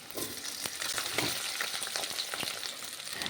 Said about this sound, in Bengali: আলুটাকে খুব সুন্দর একদম হালকা করে ভাজতে হবে